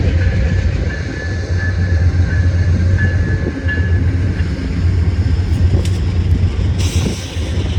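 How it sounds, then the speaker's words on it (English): A train passes close by, a loud continuous rumble with rhythmic wheel clatter and faint high squeals toward the end, with no voices. "Apparently this train is resonating right now."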